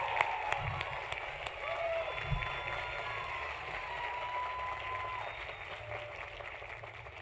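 Audience applause at the 2024 USC Leonard Davis School of Gerontology commencement ceremony for young scholars, a moderate sustained clapping from a crowd in a large hall, fairly distant, with a few louder claps early on.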